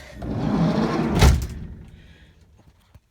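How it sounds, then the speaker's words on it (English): Campervan doors being pulled shut from inside: a rolling slide that ends in one loud close thud, then quiet with faint small knocks. "Let me just come in and shut the doors so I don't lose the cat."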